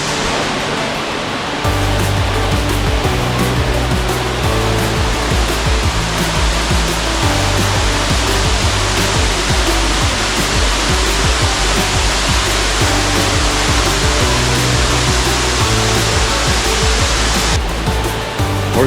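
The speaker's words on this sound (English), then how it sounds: "Horsetail Waterfall in Oregon, I think that's what this is called, right?" Horsetail Falls in the Columbia River Gorge, Oregon, pours as a loud, steady roar of falling water close by, a dense unbroken rush with no voices over it.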